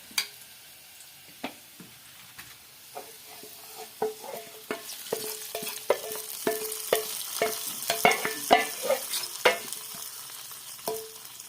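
Curry leaves and onion fry in a pan for a homestyle Kerala ozhichu curry, with a steady sizzle broken by sharp spatula stirs and scrapes that grow busier and louder toward the middle.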